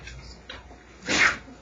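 A single short sneeze from a person in a room, fairly close and moderately loud, after a brief stretch of quiet background noise.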